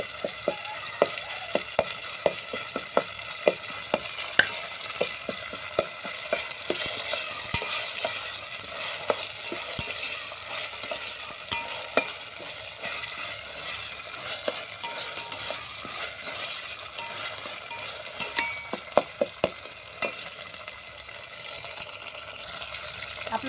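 Onions, chillies and peanuts fry in oil over a wood-fired stove, giving a steady, close sizzle dense with small crackles and pops that runs on without a break and with no talk.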